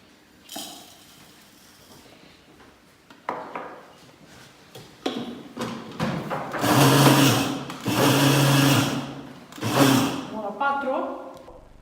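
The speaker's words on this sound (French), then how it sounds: "Pour le bien préparer, nous devons le mixer un petit peu." An electric blender grinds oat flakes in short bursts, loud whirring pulses separated by pauses, with clinks of utensils and a voice talking between the runs.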